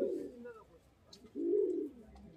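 Pigeons cooing in a loft, two close, low, soft coos separated by a short pause.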